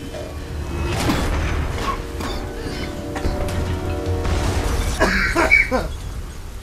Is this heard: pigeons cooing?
no